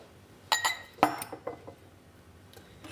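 A funnel is set onto glass yogurt jars in a home kitchen, making a few sharp clinks of glass and metal: two close knocks, then several lighter taps that trail off into quiet.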